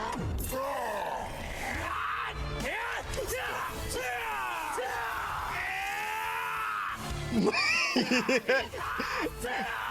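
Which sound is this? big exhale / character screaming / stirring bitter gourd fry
character screaming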